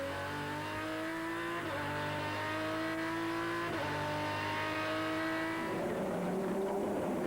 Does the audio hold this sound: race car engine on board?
yes